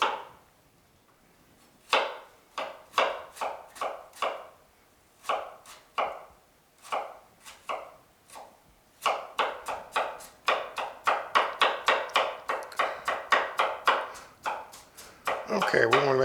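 Peeled, cored apples are chopped with a knife on a board: after a quiet start, a run of crisp, close thuds begins slowly, then quickens into a fast, even rhythm.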